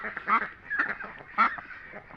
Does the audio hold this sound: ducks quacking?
yes